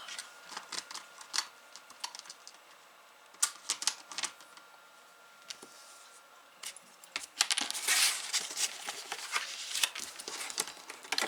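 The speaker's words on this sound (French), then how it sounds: "On va faire ça au cutter." Paper is cut with a craft knife for a scrapbook folio page, a close run of small scratchy clicks and rasps that grows denser and a bit louder toward the end, with no speech.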